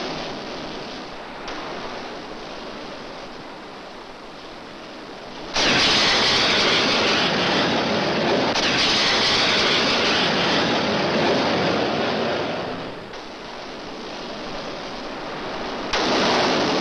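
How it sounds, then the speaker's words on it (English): Propeller planes from the aircraft carrier Saratoga roar loudly overhead at sea, the engine drone swelling in sudden bursts, fading briefly, then surging back as flights pass close by; no voices. "In flights of 4, the Saratoga's planes patrol the sea far out ahead."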